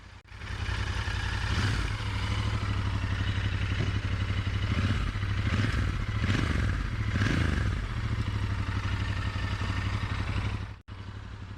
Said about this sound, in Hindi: इंजन को थोड़ा सा रेव करके देखते हैं।